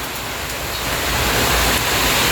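Heavy rain pours down at a house under construction, a dense, loud, steady hiss that swells slightly louder partway through, with no voices over it.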